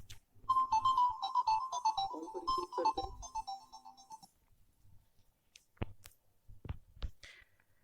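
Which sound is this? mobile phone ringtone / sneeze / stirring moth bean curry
mobile phone ringtone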